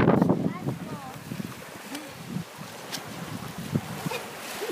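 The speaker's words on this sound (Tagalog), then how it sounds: "Ay, yung alon." Ocean waves wash onto a white-sand beach, a broad surf rush with wind buffeting the microphone, while several people talk and exclaim close by over it.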